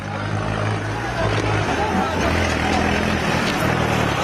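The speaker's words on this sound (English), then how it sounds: "Another tractor comes in, they are using tractors as tanks right now, ramming everything on their way." A tractor drives through a farmers' protest in India, its engine a steady, loud, droning hum amid crowd noise, with people talking over it.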